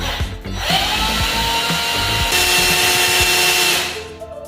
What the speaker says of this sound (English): I'm going to take my drill and mix it